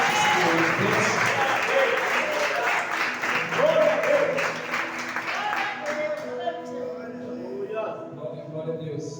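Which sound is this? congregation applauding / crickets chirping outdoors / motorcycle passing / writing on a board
congregation applauding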